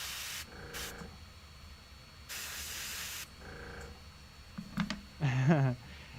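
A cheap China-brand airbrush gives off a few short, sharp hissing bursts of air close by, separated by quiet gaps, with some brief clicks and a faint voice-like sound near the end.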